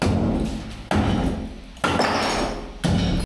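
An old bidet being smashed to salvage its taps: three heavy blows land at roughly one-second intervals, each a loud close crash that rings and decays before the next, with no talk.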